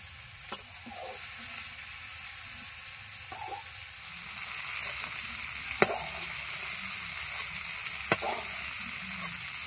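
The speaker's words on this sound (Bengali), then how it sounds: "পেঁয়াজ কলিগুলো ভাজা হয়ে গেছে, নামিয়ে নিচ্ছি।" Onion stalks with a pinch of salt and turmeric sizzle softly in a pan in a steady, faint hiss, punctuated by a few sharp clicks of a utensil stirring against the metal.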